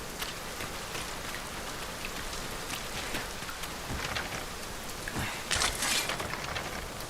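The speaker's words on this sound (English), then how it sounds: "This downpour seems unlikely to abate." Heavy video game rain in Dragon's Dogma 2 pouring down in a constant hiss, with occasional louder splashes and gusts, fairly soft overall and no talking.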